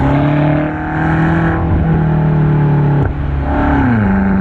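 A BMW M8 Competition cruising on a national road gives off a steady, droning engine and exhaust hum with shifting pitch as it accelerates and eases off. The sound is continuous and close, with no talking.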